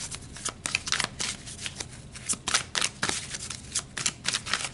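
Tarot cards being shuffled for a spirit card reading: a quick run of crisp, papery riffles and slaps in uneven bursts, close and fairly quiet, with no talking.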